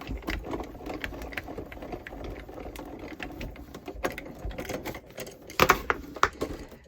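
A manual die-cutting machine being cranked as cutting plates pass through, a steady low mechanical whirring and clicking with sharper creaks and clicks near the end, fairly faint and close.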